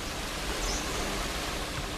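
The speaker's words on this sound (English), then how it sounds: "The sound of millions of butterflies fluttering through thin sunlight." Millions of monarch butterflies flutter in the mountains of Mexico, their wings blending into a soft, even, rain-like hiss that stays steady and faint throughout.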